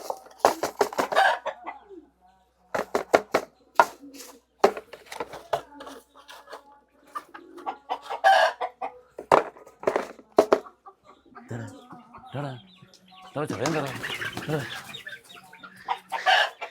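A guinea fowl clucks repeatedly in short bursts close by, with a few louder squawks and quieter gaps between.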